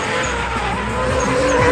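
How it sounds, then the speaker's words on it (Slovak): A race car skids hard after a handbrake pull during a street demolition race, its tires squealing loudly with engine roar close by throughout. "Sme videli, že René Bača hodne zatiahol za tú ručnú brzdu a to nie je úplne to, čo teda chceme vidieť"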